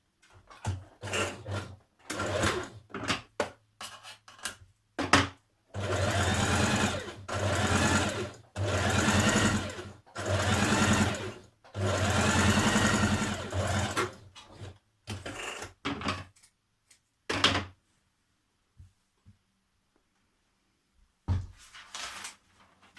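Sewing machine stitching down the back neck edge of a Simplicity 8384 dress, running in several sustained bursts separated by short pauses, close and fairly loud, then falling quiet with a few faint handling taps near the end.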